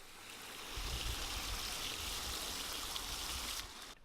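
Water from a newly installed pond pump splashes and flows steadily in a nearby rock feature, a continuous broadband rush that swells slightly after the start and cuts off near the end.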